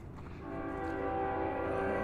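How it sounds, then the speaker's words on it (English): A train passes near the Frog Rock hiking trail in Montana, its horn sounding as a sustained tonal blare that swells from faint to steady over a low rumble. "Oh, there's a train."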